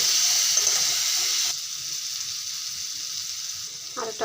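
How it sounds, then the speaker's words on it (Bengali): Potato pieces frying in a pan with salt and turmeric, a steady hiss and sizzle that drops to a quieter crackle partway through, with a short clatter near the end. "আলুটাকে ভালো করে লাল করে ভেজে নেব।"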